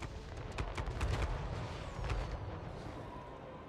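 Hell cannon artillery fires in the battle game Total War: Warhammer 3, a cluster of booming, rumbling blasts and impacts layered over a low battlefield roar, heard at moderate distance with no talk.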